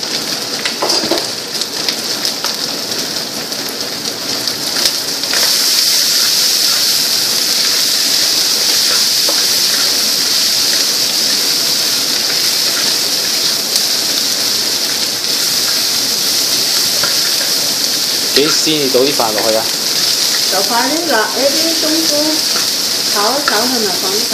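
Sausages and mushrooms fry in a hot wok for sticky rice, giving a loud, dense, steady sizzle with occasional stirring scrapes. A few faint chirps come through near the end.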